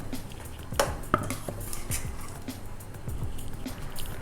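A ground coconut and cashew paste is stirred into vegetable kurma in a metal pot, with soft scraping, a few clinks of spoon on metal and quiet wet mixing, close and low in level.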